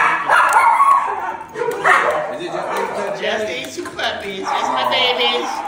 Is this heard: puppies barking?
yes